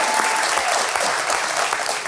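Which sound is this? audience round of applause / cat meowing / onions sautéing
audience round of applause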